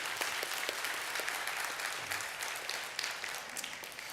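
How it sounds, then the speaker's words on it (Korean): Big round of applause from a church congregation at a Sunday worship service, dense steady clapping filling the room for a few seconds without voices. "우리 다시 한번 큰 박수로 보여주시기 바랍니다."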